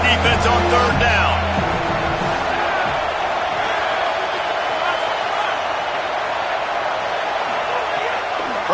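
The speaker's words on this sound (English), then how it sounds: "Decibels rising as the crowd gets behind this defense on third down." A stadium crowd at a USC vs Texas Tech college football game roars loudly and steadily through a third-down defensive stand, a dense wash of cheering that swells at the start.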